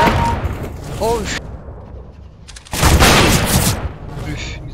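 Sniper rifle fire from an AWP in a video game: a loud gunshot burst at the start and another heavy blast later, with a voice talking in between.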